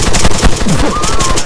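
A volley of rifle fire from a gun salute in the video game Arma 3, several sharp overlapping shots over about a second and a half, with voices faintly present in the background.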